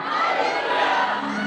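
A church congregation shouts hallelujah together at an evening worship service, a dense, sustained crowd roar that fills the whole moment at steady loudness with no single voice standing out.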